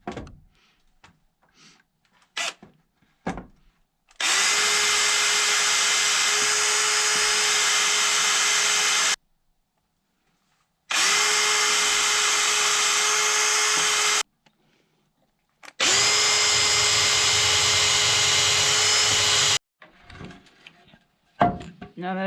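A power drill bores pilot holes in pallet boards for a workbench, giving three long, loud, steady whining runs of about five seconds each, separated by short silences and light handling noises.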